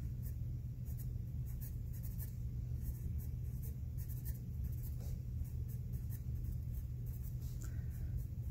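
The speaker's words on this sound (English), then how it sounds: "I'm going to write kind of small so I can fit it all on this" Pen scratching steadily on a sheet of paper, close and continuous, as small text is written out by hand over a low constant background hum.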